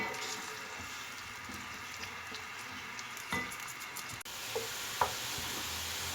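Onions frying in a pan for chicken aloo curry give a steady low sizzle, with a few faint scrapes and taps of a spoon stirring them.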